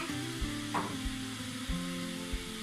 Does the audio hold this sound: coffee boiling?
yes